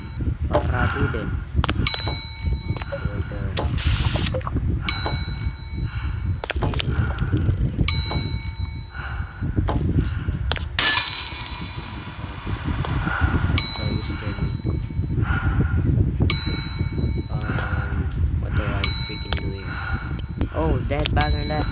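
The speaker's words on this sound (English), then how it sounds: "They're stopping the freaking bell." Repeated bright dings of a bell ring in an animal hospital anomaly video game, coming in regular bursts over a constant low background, with a player talking over them.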